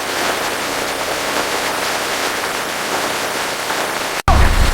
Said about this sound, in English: The bathtub is overflowing!